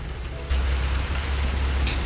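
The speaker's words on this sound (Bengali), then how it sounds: "ভালো বৃষ্টি হচ্ছে তো।" Steady rain falls in a dense broadband hiss, growing noticeably louder and heavier after the first half second, with no voices.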